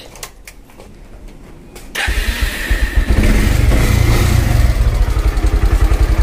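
A Bajaj Pulsar motorcycle engine catches after a couple of seconds of quieter clatter following servicing, then runs loudly and steadily with a rapid throbbing idle, close by.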